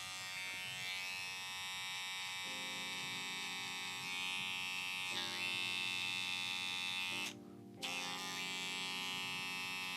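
Electric hair clippers with the guard closed give off a steady, close electric buzz that holds level, with faint pitch shifts, then cuts out for a moment near the end before resuming.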